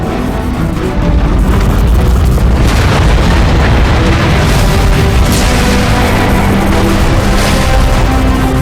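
A neutron gun fires in the Transformers: Fall of Cybertron video game, with a huge sustained booming explosion that rolls on for several seconds, loud, deep and rumbling.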